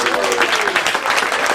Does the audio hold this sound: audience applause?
yes